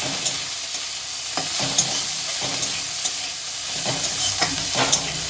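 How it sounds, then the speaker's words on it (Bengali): Dried lote fish (Bombay duck) fries in oil in a kadai with a constant close hiss, broken by regular scraping knocks of a spatula stirring it every second or so. "মাছটাও আমি 2 থেকে 3 মিনিট ধরে ভেজে নিয়েছি"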